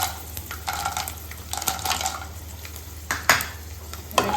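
Garlic frying in hot oil in a pan while being stirred, with soft sizzling and scattered utensil scrapes and clinks against the pan.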